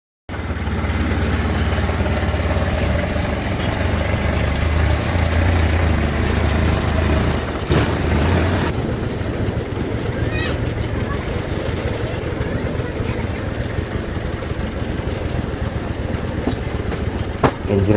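A custom-built jeep powered by a motorcycle engine, slightly smoky and not running perfectly, crawls along in low gear on its own. Its engine drones steadily and close for the whole stretch, with someone talking over it.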